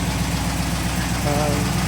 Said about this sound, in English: But the little 272 Y block, rebuilt Y block, she's dropping a little bit of water out of the exhaust, which is perfect.